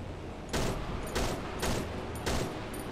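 Gunfire in the horror video game Cry of Fear, four loud bursts spaced about half a second apart, each a sharp blast with a short tail, no talk over them.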